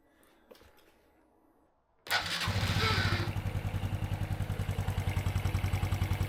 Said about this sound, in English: So the ticking noise you hear is actually the fuel injection system ticking.